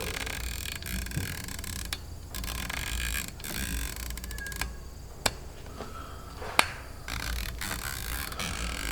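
Lockable turrets on a Hawke Frontier rifle scope being turned, producing rapid fine clicks in short runs plus a few sharper single snaps, close up against a constant background hiss.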